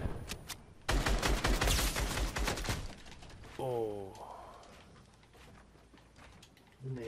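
Gunfire in the Fortnite video game comes as a dense rapid burst, then scattered single shots, with a short voice and other game sounds in between.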